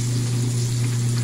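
Egg and flour coated eggplant sizzles steadily in hot oil in a home kitchen, a close, continuous frying crackle with no talking.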